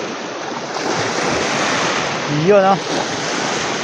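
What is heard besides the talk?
strong waves on a lake shore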